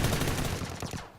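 Rapid gunfire from a firearm in the mobile battle royale game PUBG: New State, a dense burst of shots that stays loud and steady before trailing off near the end, with no voices.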